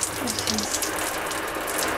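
Water pouring from a makeshift rain shower head in a rustic tiny home, a steady, close hiss of falling spray.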